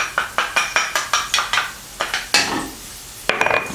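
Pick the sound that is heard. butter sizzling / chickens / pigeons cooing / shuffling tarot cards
butter sizzling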